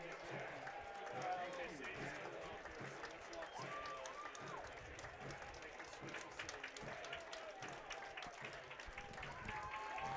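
Stadium crowd applauds steadily as substituted soccer players leave the field during a Detroit City FC versus Michigan Stars match, a continuous broad clapping wash running under a commentator's voice throughout.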